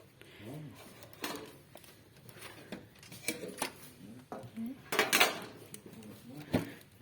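Metal serving trays are handled and knocked together in a discount store, giving sharp, uneven clatters and clinks, one burst louder than the rest, with faint talk between them.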